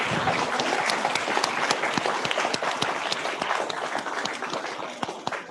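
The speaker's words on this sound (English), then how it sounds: "Can we have a huge round of applause for this amazing personality?" A large audience at a youth parliament event gives a sustained round of applause, many hands clapping with crisp individual claps standing out near the end.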